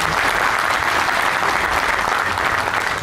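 Steady, full applause from a mushaira audience in Bahrain welcoming an Urdu poet, an even wash of many hands clapping throughout without a break.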